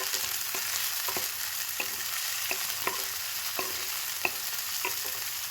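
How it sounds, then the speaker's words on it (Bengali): Egg greens fry lightly in a pan with a steady hiss, broken by periodic scrapes of a spatula stirring them, close and fairly loud. "ডিমের শাকটা হালকা করে আমি ভেজে নেবো"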